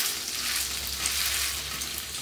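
Potato patties frying in hot oil, a steady bright sizzle and crackle with no talking.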